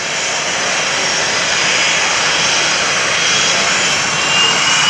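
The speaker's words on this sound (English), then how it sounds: "Super Hornet taxiing by to give you a close-up view" An F/A-18 Super Hornet jet taxis past at a naval air station airshow, its engines giving a loud, steady roaring whine that holds close and constant throughout.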